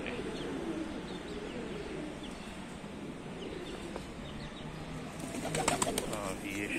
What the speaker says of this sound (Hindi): और ये शेराज़ी कबूतर आ गया है